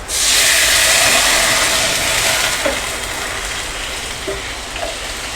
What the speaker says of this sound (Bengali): বাইরে প্রচণ্ড বৃষ্টি হচ্ছে ঝমঝম করে বৃষ্টি হচ্ছে বাইরে